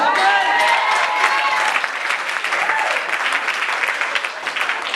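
A church congregation claps together in a sustained burst of applause, dense and loud from start to finish, with a voice audible over the opening moments.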